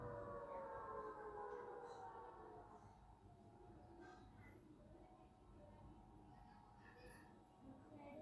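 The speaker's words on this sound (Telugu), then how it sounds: "మసీదులు చుట్టుపక్కలే ఉంటాయి కాబట్టి సైరన్ బాగా వినొస్తుంది" A siren from mosques close by drifts in faint and steady for the first few seconds as a long wailing tone, then fades under low kitchen background noise.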